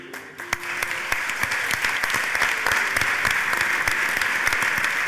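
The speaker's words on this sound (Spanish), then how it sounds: "tenemos que aplaudir a Martín Chirino en el Círculo de Bellas Artes" A crowd at a posthumous tribute to sculptor Martín Chirino at Madrid's Círculo de Bellas Artes applauds steadily and fairly loudly, a dense wash of clapping that holds strong throughout.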